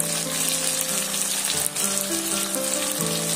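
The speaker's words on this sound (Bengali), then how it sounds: "দিয়ে টমেটোটা আমি ভালো করে এইভাবে ভেজে নেব।" Chopped tomato fries in hot oil for a Bengali rui fish curry, giving a loud, steady, close-up sizzle that carries on without a break, with a faint tonal hum underneath.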